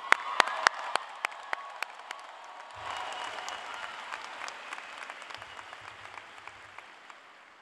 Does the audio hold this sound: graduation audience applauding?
yes